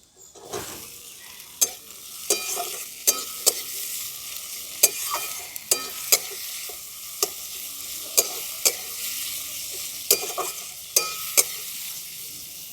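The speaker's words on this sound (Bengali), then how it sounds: "দেখুন পেঁয়াজটা একটু হালকা হালকা করে ভেজে নিয়েছি, আর এরপরে দিয়ে দিচ্ছি কেটে রাখা টমেটো" Onion and tomato fry in a pan, a steady close sizzle punctuated by a dozen sharp, regular spatula knocks and scrapes against the metal; no talking.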